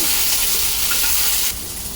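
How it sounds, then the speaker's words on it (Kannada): Ivy gourd shallow frying in oil in a pan: a dense, continuous close hiss of sizzling that stays loud and even, then drops slightly in level near the end. "ಅದನ್ನು ಸ್ವಲ್ಪ ಚೆನ್ನಾಗಿ ಶಾಲೋ ಫ್ರೈ ಮಾಡಬೇಕಾಗುತ್ತೆ"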